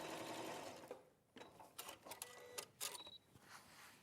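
A sewing machine stitches a quilt seam on a bee wall hanging quilt, running in several short close bursts with brief pauses between, starting after a stretch of quieter background.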